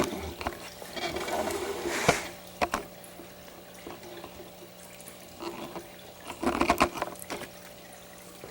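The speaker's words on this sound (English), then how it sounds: "So let's put it in the water." A homemade submarine boat is lowered into water, with soft splashes and sloshing, a couple of sharper plunks near the start and a brief burst of splashing later, fairly close and otherwise quiet.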